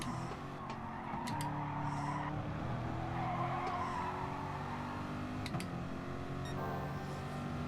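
Tyres scrub and squeal under understeer in the GT Sport racing game, a steady engine drone running beneath rising and falling skid whines with no voices.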